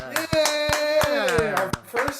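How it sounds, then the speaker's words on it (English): A small group clapping for a guest during a casual podcast recording: sharp, distinct hand claps at an uneven rhythm, close and loud, mixed with excited voices and cheering. "So let's clap it up for Amanda."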